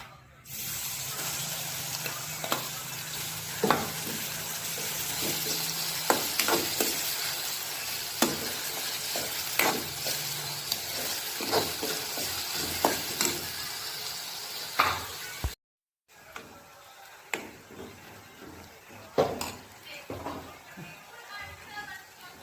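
Garlic, ginger, green chili and onion paste frying in a pan with a little cumin, a close crackling sizzle punctuated by stirring scrapes and splashes, briefly cutting out before resuming.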